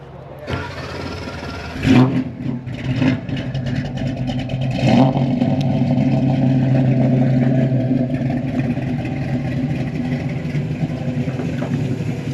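A 1962 Chevrolet Nova engine cranks and catches, then settles into a loud, steady rumbling idle with a few revs, close by.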